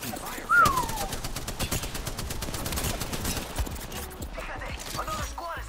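Rapid automatic gunfire from an enemy squad in the shooter game Apex Legends rattles in dense bursts, with a short whistling tone near the start.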